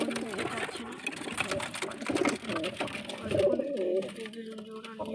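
Domestic pigeons coo in a loft, soft repeated calls near the listener, with a person talking over them.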